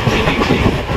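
A passenger train moving at good speed on rails on a rainy day, a steady dense rumble with a continuous clattering of the wheels, loud and close, as heard from inside the carriage.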